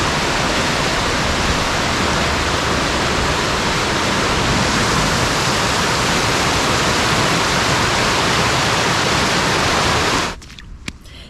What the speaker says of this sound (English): I'm marvelling at the speed of that fast flowing river after all the rain